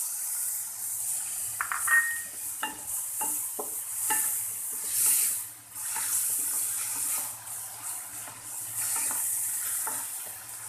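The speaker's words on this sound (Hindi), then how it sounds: "बस 1 मिनट हमने इन्हें फ्राई करना है।" Finely chopped tomato, carrot and cabbage sizzle in a pan for a bread pizza topping. A bright, steady frying hiss runs throughout, broken by repeated scraping taps of a spoon stirring the vegetables close by.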